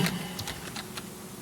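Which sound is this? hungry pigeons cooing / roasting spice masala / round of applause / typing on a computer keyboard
typing on a computer keyboard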